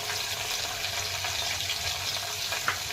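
Asafoetida sizzles in hot oil with curry leaves as a tempering for palak khichdi, a steady close frying hiss that runs unbroken with faint stirring and no voices.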